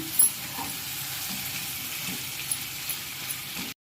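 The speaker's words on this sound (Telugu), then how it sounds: "చూసారా ఫ్రై అయిపోతుంది" Stuffed brinjal frying in a pan over low to medium heat, an even close sizzle that holds steady throughout with a few soft stirring knocks before cutting off abruptly.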